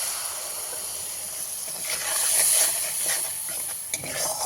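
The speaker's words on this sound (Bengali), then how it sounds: "এখন আমি এখানে দিয়ে দেবো সর্ষে আর পোস্ত পেস্ট" Mustard and poppy seed paste sizzling in a hot pan for a prawn malai curry, a steady close hiss that swells briefly, with a faint stir or tap near the end.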